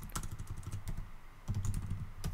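Keys clatter on a computer keyboard during programming work, a quick run of close, crisp taps in two bursts separated by a brief pause, with no voices.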